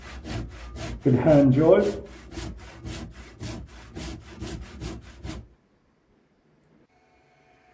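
Hand saw cutting the end off a log cast with thick epoxy resin, roughly 5–10 mm of resin, in steady rhythmic back-and-forth strokes for about five seconds, loud and close, then stopping to near silence; a brief spoken remark.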